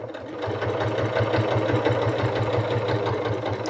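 A sewing machine stitches a stocking cuff with a rapid, steady mechanical whir and rhythmic needle chatter, running close and loud almost without pause after a short start-up.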